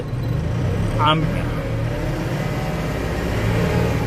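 Eicher BS6 Starline truck engine revving up, a steady mid-low diesel drone with a brief rise in pitch, heard from the cab with talk over it.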